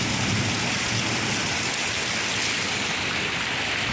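Heavy rain pours steadily in a dense, even roar across the whole stretch, with no voices and a low rumble underneath.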